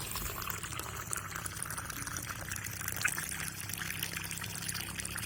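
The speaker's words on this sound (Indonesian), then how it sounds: "Ini air kerannya ngalir dari tandon sana ya. Kita ambil dulu sampelnya." Tap water fed from a storage tank runs out in a continuous, fairly loud stream and is caught as a sample of cloudy well water. The pouring hiss stays steady throughout, with no speech.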